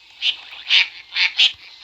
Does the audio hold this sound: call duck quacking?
yes